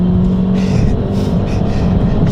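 A Fiat 500 Abarth engine roars steadily at full throttle in second gear, loud and close, with a sustained droning tone and rising, surging intake noise throughout.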